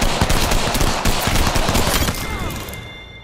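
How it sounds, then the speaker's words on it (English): Rapid pistol gunfire in the Apex Legends battle royale game, a loud, dense string of close-range shots crackling for about two seconds before tailing off into a fading ring. "Oh, you want to have a pistol fight?"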